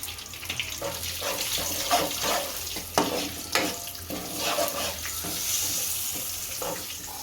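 Asafoetida dropped into hot oil with cumin and garam masala for a rajma dish, giving a steady crackling sizzle with a few sharper spatters and stirring clatter, close and moderately loud.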